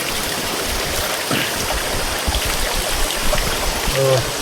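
Natural spring water from a rocky hill in Makwanpur district, Nepal, flows in a steady, close rushing babble, with a brief voice near the end.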